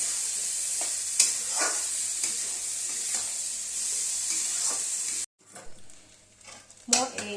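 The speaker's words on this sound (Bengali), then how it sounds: "ভালো করে নাড়াচাড়া করে চালটা কষাতে হবে যতক্ষণ না মশলার কাঁচা গন্ধটা চলে যায়।" Rice roasted with spices in a hot pan for egg pulao, sizzling steadily up close under repeated scraping stirs, then dropping quieter near the end with a few louder clanks.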